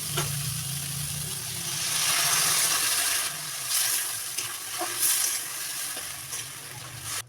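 Spice paste is stirred into frying ridge gourd and okra for Bengali jhinge posto, a steady loud sizzle with scraping and stirring noises and a few spoon knocks against the pan.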